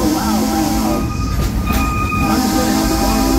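Silver Dollar City's Frisco Dollar Line train rolling on its rails, a steady loud rumble with a sustained whine throughout, heard from aboard the train.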